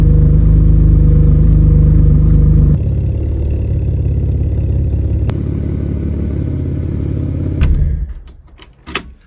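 A BMW E36 engine idles loudly and close with a steady low rumble, then the note drops and runs on unevenly before cutting off near the end, followed by faint clatter.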